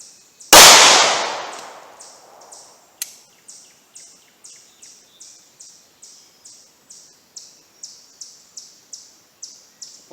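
A Diamondback DB9 9mm pistol fires one sharp, loud close shot with a long decaying ring. A faint click follows a few seconds later, then a steady run of quick repeated high chirps.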